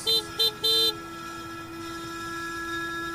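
A car horn honks three times in quick succession, two short beeps then a longer one, followed by a steady engine hum.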